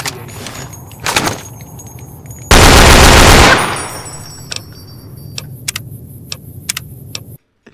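An AK rifle fires in a video game: a loud sustained burst of automatic gunfire lasting about a second, surrounded by scattered clicks and smaller game sounds.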